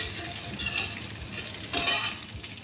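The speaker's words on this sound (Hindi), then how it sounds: "ज़ीरे का हम बघार करेंगे इसमें अच्छा सा।" Cumin seeds tempering in hot oil in a home kitchen pan, a steady close crackling sizzle with brief stirring scrapes, heard alone with no talk.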